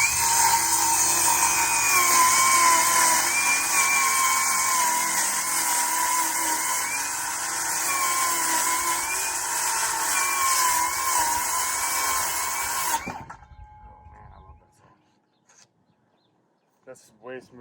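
A power saw rips lengthwise through a plywood sheathing sheet for a cabin gable wall, a loud, continuous whining cut for about thirteen seconds before the blade winds down and stops, leaving near silence.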